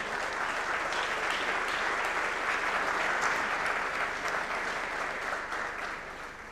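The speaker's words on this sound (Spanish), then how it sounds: "Ahora sí, el aplauso para ella." Steady applause fills an auditorium as a panelist takes the stage at an education and technology panel, a broad, even crowd clapping that holds level and then slowly tapers toward the end.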